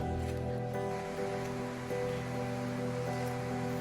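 Continuous broadband rushing of a river flowing fast over rapids fills the scene steadily, with no speech, loud and close throughout.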